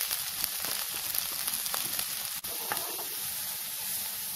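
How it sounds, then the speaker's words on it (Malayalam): Onions and green chillies sautéing with salt in a pan, a steady close sizzle and crackle with faint stirring scrapes running through, no voices. "ബാക്കി സവാളയും പച്ചമുളകും കൂടെ ഒന്നിച്ചിട്ട് കുറച്ച് ഉപ്പും കൂടെ ഇട്ട് വഴറ്റാം"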